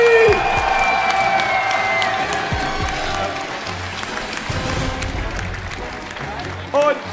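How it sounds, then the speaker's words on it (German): A crowd at a Super Smash Bros. tournament award ceremony at Gamescom 2015 claps and cheers loudly and steadily, with whoops rising above the applause and a voice briefly heard over it. "Macht richtig Applaus"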